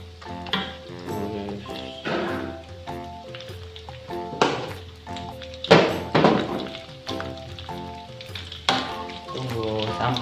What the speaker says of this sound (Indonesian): Goreng ikan teri.